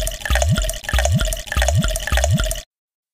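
Cartoon water pours into a bathtub in a Peg + Cat children's game, a rhythmic series of five quick splashing glugs with rising pitch sweeps and bright game chimes, ending abruptly.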